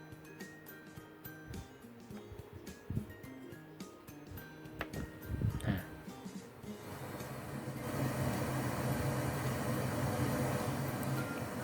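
Broadband pink noise test signal from an X32 mixer hisses through PA loudspeakers, starting after some clicking and handling sounds and rising to a steady, even wash for the last several seconds.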